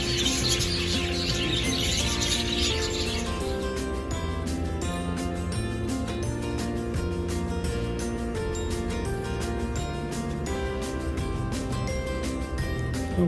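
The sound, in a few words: birds calling in zoo in the evening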